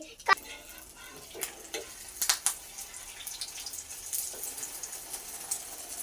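An egg frying in oil in a wok, spitting and sizzling with sharp pops and crackles over a steady hiss, close by and fairly loud.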